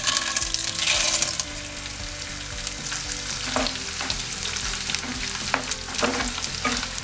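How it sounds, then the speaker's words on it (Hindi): Gond, edible gum, fries in ghee on a low-medium flame while being stirred, a bright close sizzle with scraping spoon strokes and occasional clinks, loud at first then settling into a steady crackle. "गोंद को फ्राई कर लेंगे."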